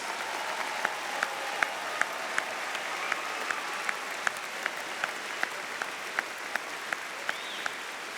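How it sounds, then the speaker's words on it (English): Audience applause at a high school commencement ceremony honoring military service members, a sustained, even clapping from a large crowd with a few sharper individual claps standing out. "Let's give them all a round of applause in gratitude for their service"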